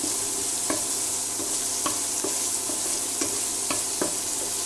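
Onions fry in a pan for a green gram curry under a constant hiss, while a spoon scrapes through them in a slow stirring rhythm, close and moderately loud.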